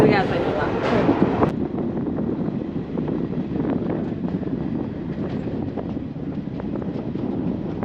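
The Tirupati–Vasco da Gama express rolls onto the Pullampet bridge, its wheels giving a steady low rumble and rattle along with wind buffeting the microphone, and a brief sharp clank comes near the start.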